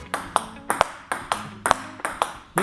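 Table tennis ball striking a Crazy Bull racket's rubber, seven or eight crisp hollow pings at a steady rally rhythm, close and clear with slight ring after each hit.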